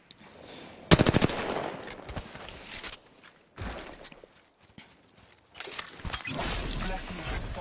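Automatic weapon fire in Apex Legends, sharp rapid bursts starting near one second and returning in later volleys, loud and close with recoil-heavy spraying, with muffled movement and quieter gaps between bursts.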